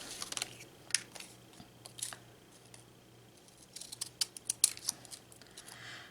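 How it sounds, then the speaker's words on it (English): Several crisp snips of scissors cutting paper, in irregular bursts, with a cluster of quick cuts toward the end; close and fairly quiet. "I'm gonna whack it with this pair of scissors"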